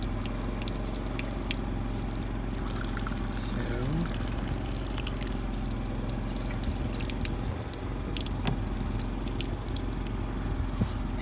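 Water running from a tap inside a camper van, pouring steadily with dripping and splashing, under a low continuous engine-like hum and some background clatter.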